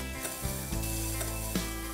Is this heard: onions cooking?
yes